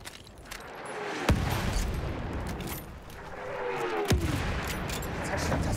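Enemy artillery barrage in Battlefield 1 fires in two sharp distant cracks a few seconds apart, each trailing a whistling sweep, over a continuous low rumble of battle.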